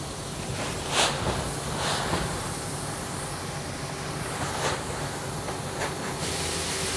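Secondhand Japanese paddy rice dryer drawing rice into its bin, a steady, loud rushing hiss of air and grain with faint soft knocks, continuous throughout.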